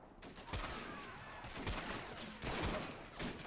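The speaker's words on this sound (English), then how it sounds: "this machine gun is still active too" Machine gun and rifle fire in a 1918 Ottoman fortress siege video game battle, crackling bursts and dense volleys of shots at moderate distance, continuous rattling with louder clusters, no talk.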